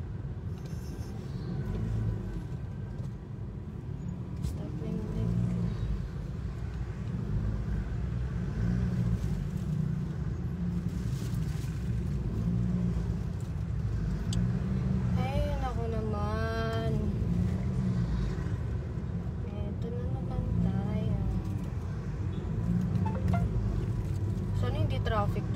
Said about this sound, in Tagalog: Traffic dun sa daming bike.